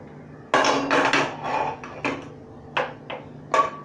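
A metal pan set onto a gas stove in a home kitchen while frying bombil fish, giving a series of sharp clanks and scrapes, loud and close, with no talking.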